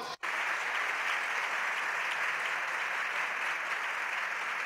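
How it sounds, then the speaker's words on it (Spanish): Loud, sustained applause from a large crowd in the Spanish parliament, steady and dense throughout after a brief pause at the start. "Aplausos."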